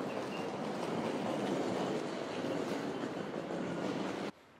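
A Sydney train rolls into a station platform with a steady broadband rumble and wheel noise, close and fairly loud, cutting off abruptly at the end.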